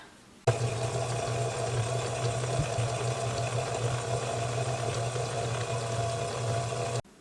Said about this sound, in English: we're literally just going to mix. It's going to go through several stages of cream until we get to butter